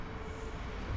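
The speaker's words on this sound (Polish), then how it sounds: "Jedzie pociąg." A passing train gives a dense, steady rumble and rush, loud and continuous across the whole short stretch with no pauses.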